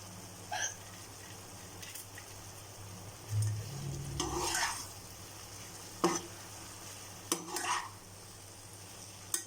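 Crisp fried cauliflower being stirred into gobi manchurian sauce in a pan, with scattered scraping stir strokes and a low sizzle, brief and sparse against steady background hum.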